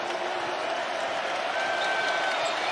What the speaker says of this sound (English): Nate Oates gets the crowd on his feet